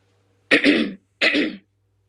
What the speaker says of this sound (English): I'm just going to clear my throat here.